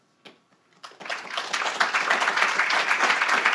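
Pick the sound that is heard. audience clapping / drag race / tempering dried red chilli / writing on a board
audience clapping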